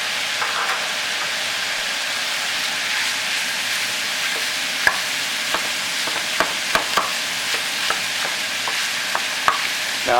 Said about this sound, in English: we're going to add in the onions now. And that sausage that we made.